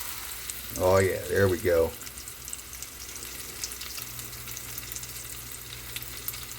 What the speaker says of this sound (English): we've got a nice hot pan with some oil. We're going to sear this on both sides